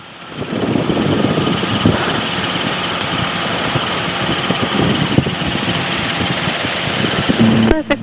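A Robinson R22 helicopter engine runs steadily in flight, a loud continuous drone and vibration throughout, with faint intercom voices in the background.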